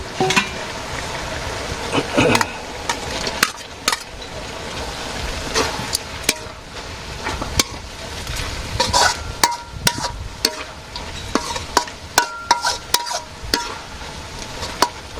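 Minced fish stirring and frying with water spinach in a pan, a steady sizzle broken by repeated sharp scrapes and knocks of the spatula, close and fairly loud.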